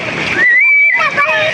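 Children bathing in clear seawater at a beach, with splashing and sloshing water close by and a child's high, drawn-out voice rising over the middle of the scene.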